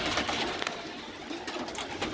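Pigeons in a large loft coo and rustle together in a steady, busy chorus, with soft wing flutters and shuffling close by and no voices.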